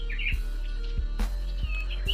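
A caged sirtu bird gives short, high chirps in quick bursts, close up, with several soft low thumps spaced about every second beneath them.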